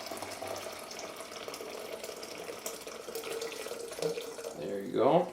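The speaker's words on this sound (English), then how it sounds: "So let's pour in our green tea." Green tea poured from a container into a blender, a steady liquid trickle and splash that swells louder near the end, under faint background noise.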